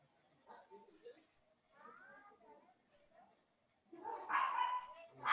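A dog yelps and barks in a burst near the end, preceded by muffled talk and background noise in an indoor space.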